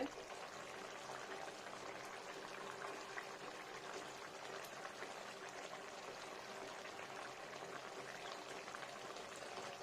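Sukto, a Bengali vegetable curry of eggplant, long beans, green banana, bitter gourd, potato and tomato, simmers in a pot with a soft, steady bubbling hiss, faint and even throughout with no voices.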